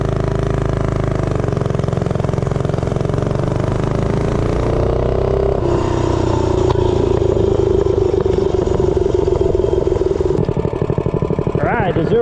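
A Doodlebug minibike with a 66-tooth rear sprocket revs hard through a top speed run, its small engine droning steadily and rising in pitch, close and loud, with wind buffeting throughout.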